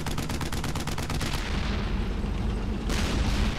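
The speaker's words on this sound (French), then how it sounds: "J'ai vu un truc qui a tiré au canon" Battlefield fire in Brothers in Arms: Hell's Highway sounds close and loud, opening with a rapid string of automatic shots. Heavy booming blasts and a dense rumble follow, and another burst of firing comes near the end.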